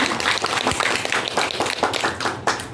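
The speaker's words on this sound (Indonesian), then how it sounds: "Boleh minta tepuk tangan dari Ibu." An audience at a talk show claps for a teacher being introduced, a brief burst of lively hand clapping with uneven bright slaps, close and fairly loud, lasting under three seconds.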